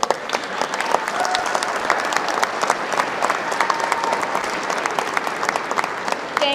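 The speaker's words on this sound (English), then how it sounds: "Thank you for that big round of applause" Sustained, close applause from a large audience at a political rally in Harrisburg, Pennsylvania, dense crackling hand claps at an even level throughout with no talk over it.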